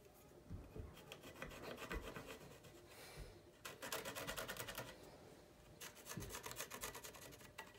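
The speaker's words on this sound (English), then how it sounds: "I'm gonna chisel it out" A chisel works green wood for a carving bench, cutting out a shallow recess: quiet, steady rasping and scraping strokes at close range, with short pauses and a few harder bites between runs.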